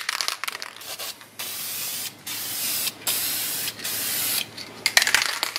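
Tint spray coats the rear lights of a Honda Civic FN2 Type R. Close, steady hissing bursts repeat about five times with brief gaps between them.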